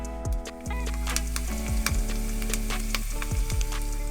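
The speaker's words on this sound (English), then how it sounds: "we'll start the frying pan for our pork chops" Rosemary pork chops fry in a pan in an RV kitchen with a steady crackling sizzle, dotted with sharp pops and occasional clinks close by.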